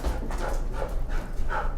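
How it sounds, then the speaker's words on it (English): A dog barks several times indoors, the sharp yelps faint and somewhat distant, spaced irregularly over a low steady background. "my dog's going crazy. I don't know if y'all can hear my dog."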